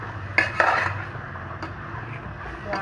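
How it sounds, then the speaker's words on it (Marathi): A spoon stirs peas, potato and cauliflower together in a pot for veg pulao. A few close metallic clinks and scrapes sound against the pot, then a quieter stretch with one more light knock. "मी वटाणा बटाटा आणि फ्लॉवर त्याच्यामध्ये टाकलेला आहे आणि आता मी आता हे सर्व एकत्र करणार आहे"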